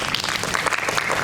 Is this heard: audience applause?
yes